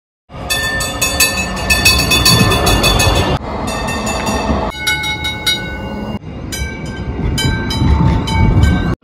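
A Dresden tram running, with a loud continuous rolling rumble and ringing high-pitched wheel squeal that shifts in tone across several segments, close by, with no talking.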